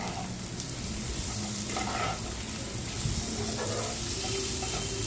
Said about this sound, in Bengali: টমেটো কুচিটা দিয়ে আরও একটু ভালো করে মশলাটাকে কষিয়ে নেব।